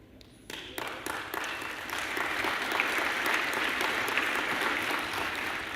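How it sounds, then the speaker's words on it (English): Audience applause at a Power BI Report Server tech presentation, steady clapping swelling after a brief start and filling the whole stretch at moderate, even loudness. "It's funny, I'm getting applause."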